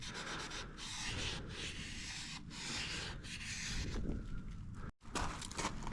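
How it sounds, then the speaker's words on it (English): A brush scrubs the engine cases of a dirt bike in continuous rough strokes, close and steady, with a brief pause near the end before scrubbing resumes. "While we're here, we'll scrub cases real quick."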